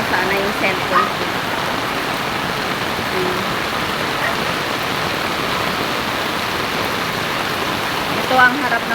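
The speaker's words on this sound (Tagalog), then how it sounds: "Ayan ang lakas na talaga ng ulan mga guys." Heavy rain falls outside a house, a thick unbroken wash of drops spattering on surfaces, close and steady, with a brief louder splash near the end.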